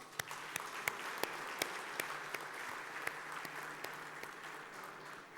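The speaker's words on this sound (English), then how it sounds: "Kindly join me to thank each one of them with a big applause." An audience at a thank-you event claps with scattered, distinct hand claps over a soft bed of applause, moderately distant and fairly quiet.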